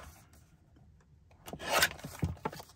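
Card being trimmed for a black-and-white upcycled gift bag: a quiet pause, then a short burst of close scraping and rasping cuts that fades into a couple of softer strokes.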